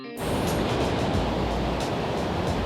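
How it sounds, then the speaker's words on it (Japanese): A mountain stream waterfall in a beautiful gorge roars loud and close, a dense steady rush of water that starts abruptly and continues unbroken. "滝まで来た。"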